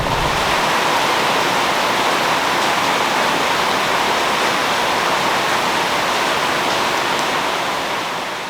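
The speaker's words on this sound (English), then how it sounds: "There's also a waterfall here" Waterfall at Palenque in Chiapas, Mexico, a steady, loud, broadband roar of falling water that stays constant throughout and tapers slightly at the end, with no voices.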